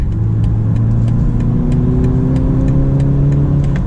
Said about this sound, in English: let's do some accelerating here with our 4-cylinder